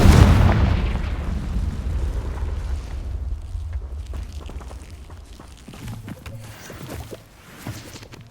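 A Confringo blasting curse explodes in the Hogwarts Legacy video game, one loud booming blast up front that rumbles and decays into crackling debris and smaller pops.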